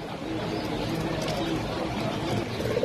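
Moon pigeons at a busy bird market give soft, repeated coos amid a dense murmur of crowd noise and market bustle, the calls faint and mixed under the background chatter.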